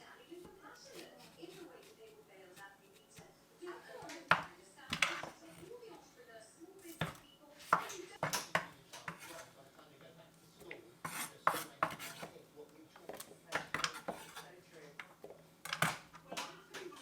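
A knife slices cucumber on a cutting board with quiet, scattered taps and scrapes spread through the clip, while a person talks over the cutting.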